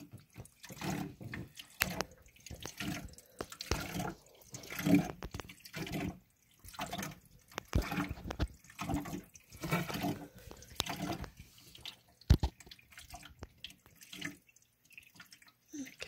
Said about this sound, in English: Yeah, it's definitely leaking.